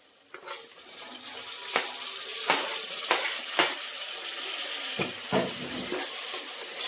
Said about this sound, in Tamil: தக்காளி போட்டு நல்லா வதக்கிக்கோங்க